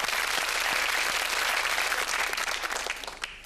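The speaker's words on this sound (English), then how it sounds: "a round of applause for our contestants today" Studio audience applause for contestants on the Countdown game show, a steady wash of clapping that fills the clip and thins slightly toward the end, with no talking over it.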